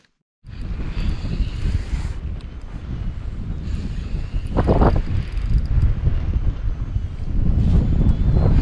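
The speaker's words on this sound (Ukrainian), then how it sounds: "У нас ураган надвигається" Strong, gusting wind before an approaching hurricane roars loudly and continuously into the microphone on a fishing trip. Low rumbling buffeting swells and eases, and nobody speaks.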